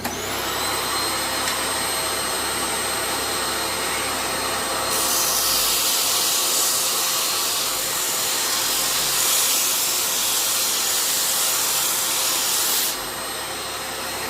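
A Parkside PTSG 140 C2 disc sander at maximum speed whirs steadily with a vacuum drone, the pitch rising into a harsher grinding hiss midway as it works a surface, then easing back.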